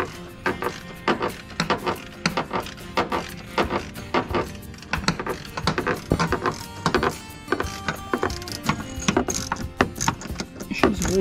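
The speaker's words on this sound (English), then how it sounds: "So now we just gotta repeat the process of tightening it down." A ratchet tightens bolts during a sailboat winch upgrade, clicking in steady close bursts of rapid pawl ticks with brief pauses between strokes, plus light metallic handling and no talk.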